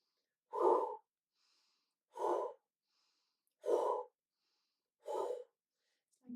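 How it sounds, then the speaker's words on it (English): Qi gong fire breathing: four strong breaths spaced evenly about every 1.5 seconds, each a sharp rushing exhale through the mouth after a faint nasal inhale, close and otherwise quiet. "let's do that with the fire breathing in through the nose, out through the mouth"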